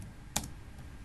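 A computer keyboard used to type router configuration commands, a couple of soft isolated key taps close by against a quiet background.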